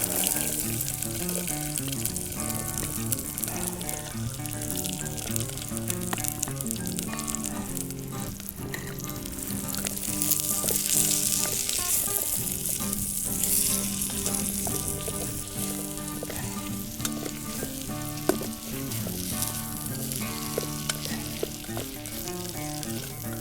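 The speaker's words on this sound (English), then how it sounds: "now we can add it to the pan with the oil that the pork was cooking in" Onions, carrots and celery fry in leftover pork oil in a pan outdoors in a cold winter forest, a steady crackling sizzle that holds loud and close for the whole stretch with watery hiss on top.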